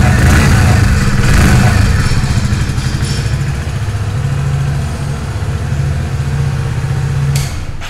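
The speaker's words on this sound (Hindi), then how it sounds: "सो ये था इसका एग्जॉस्ट नोट।" A Hero Splendor+ XTech 2.0 motorcycle's exhaust note: the engine idles in a steady, close, loud low thrum with an even pulsing beat that holds throughout.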